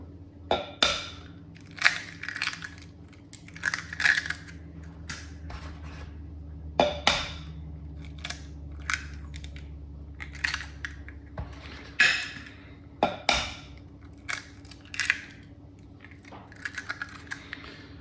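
Three eggs cracked and handled in a bowl while mixing a traditional fruit cake batter with cherries, a series of sharp taps, knocks and shell clicks spaced irregularly against a quiet kitchen background, with no talking.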